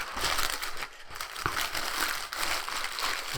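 Close, crisp crackling and crunching as a Cadbury Heroes sweet wrapper is handled and squeezed, continuous irregular crinkles with small sharper snaps and no voices.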